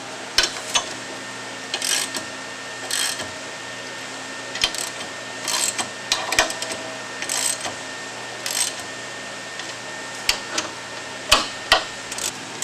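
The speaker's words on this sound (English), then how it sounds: "Now it's important to tighten them up evenly as you go around the clutch." Bolts on a Weasler clutch are tightened by hand, heard as a series of close, short ratcheting and metallic clicks in irregular bursts over a steady background hum.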